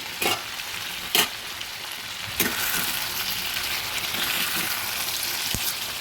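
Chicken curry masala fries in a pot with a continuous crackling sizzle, near and fairly loud, with several sharp knocks and scrapes of a spoon stirring.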